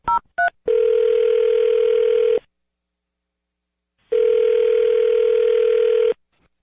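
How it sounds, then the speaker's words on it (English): Two quick touch-tone beeps, then a long ringback tone, a pause of silence, and a second long ring, clear and close. "I'm going to dial her phone number right now"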